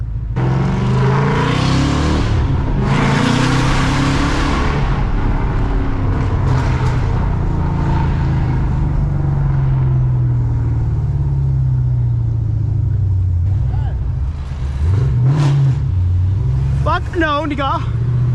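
A Ford Mustang GT drives through a city at night, its engine holding a steady, close low rumble that swells into a rev near the end, with voices over it.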